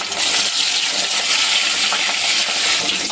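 Rohu fish pieces frying one by one in hot oil in a kadhai, a loud, dense, crackling sizzle that holds steady from start to finish.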